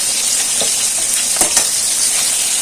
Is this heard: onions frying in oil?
yes